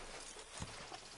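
In the Red Dead Redemption 2 video game, a horse's hooves clop faintly at a steady walking pace over a quiet ambient background, with no speech.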